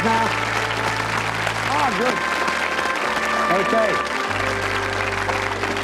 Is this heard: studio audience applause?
yes